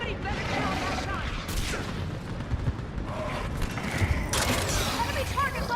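Heavy mounted gun fire in Mass Effect 3 during a ship battle, a dense continuous barrage of bursts and mechanical clatter amid background combat noise, with no clear speech.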